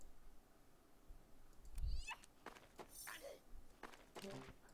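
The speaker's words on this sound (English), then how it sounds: "I like how it goes meow. That's all the sound it makes." A cartoonish cat meow from the video game Card Hunter sounds faintly amid soft game effects, with a low thump and scattered clicks around it.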